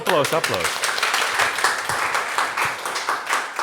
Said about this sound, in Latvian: Paldies, Rīna! Aplausi!